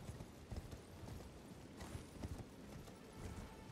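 Horse hooves galloping in Elden Ring, a steady rapid clip-clop rhythm held close and fairly loud throughout, with faint game ambience beneath.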